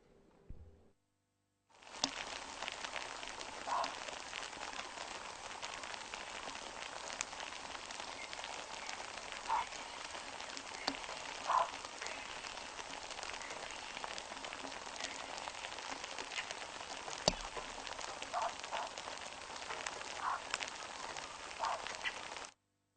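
Steady rain hisses and patters continuously after a brief quiet start, an even, dense wash of sound with no voices.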